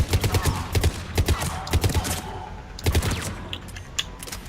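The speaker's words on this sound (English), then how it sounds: "Commander, we're getting a lot of mortar fire." Rapid bursts of gunfire and heavy mortar blasts from a battle in the video game Mass Effect 3, with repeated sharp impacts in clustered volleys over a steady rumbling backdrop.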